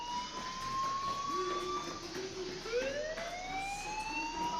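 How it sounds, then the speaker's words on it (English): A fire alarm wails in the video game Life Is Strange, its rising and falling siren tones sweeping repeatedly and overlapping at steady, moderate loudness with no talk. "do you hear that fire alarm?"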